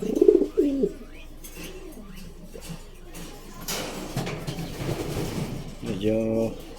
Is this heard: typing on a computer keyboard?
no